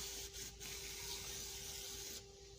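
Aerosol contact cleaner sprayed onto a motherboard during repair, a steady hissing spray lasting a couple of seconds with brief breaks, close and fairly loud over a constant electrical hum.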